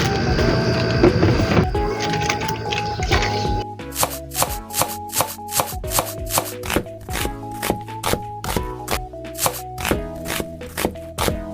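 Knife chopping peeled shrimp by hand on a board: an early stretch of scraping, then a run of quick, regular, crisp close taps.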